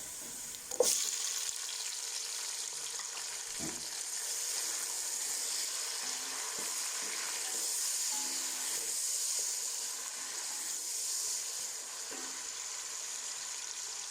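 Steady, loud sizzling and hissing of tomatoes frying in a hot pan with browned chicken, with a few brief clinks of stirring near the start.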